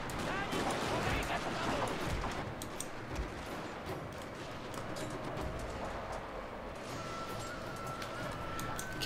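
Soldiers' musket and rifle gunfire in the Fall of the Samurai battle game, scattered shots and crackling volleys over a busy battlefield hum, with someone talking throughout.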